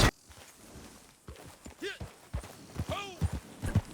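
Horse hooves clip-clopping on the ground in Red Dead Redemption 2, a series of uneven, moderately loud hoofbeats with short whooshing sweeps between them.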